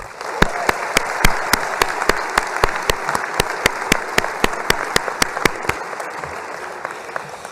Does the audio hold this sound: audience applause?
yes